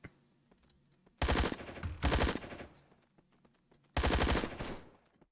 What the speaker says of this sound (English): These guys got sawn-off shotguns.